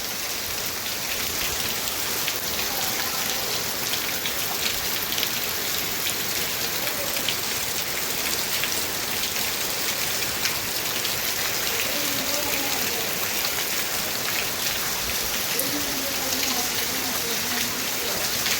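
Continuous monsoon rain falls steadily on a farm field, a dense, even hiss of drops on surfaces with no breaks, while faint voices murmur underneath.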